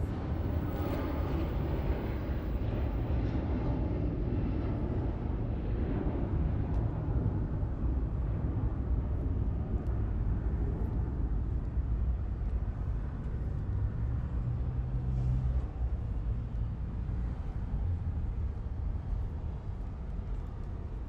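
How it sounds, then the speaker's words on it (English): A United Boeing 757-200 airliner takes off at Los Angeles International Airport, a steady, loud broadband jet roar with a deep low rumble that holds throughout with no talk. "United 757-200 taking off."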